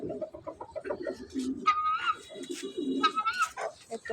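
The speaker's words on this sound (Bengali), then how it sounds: "একটা পাখি খাচ্ছে, আর কতগুলো কই গেল জানি না।" Pigeons in a village courtyard make repeated soft coos near the microphone, and a person talks intermittently in between.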